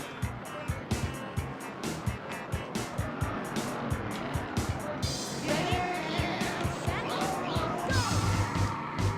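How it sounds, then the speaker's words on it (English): A video game muscle car races along US 101, its engine roaring steadily with rhythmic pulsing and passing whooshes, while game music or effects sit alongside. "we stick with our muscle car, because this is the car we are most skilled with"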